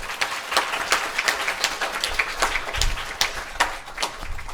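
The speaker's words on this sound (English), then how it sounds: "Give him a round of applause" Scattered clapping from a small audience at a camp graduation, with distinct individual claps landing unevenly throughout and no clear talk over it.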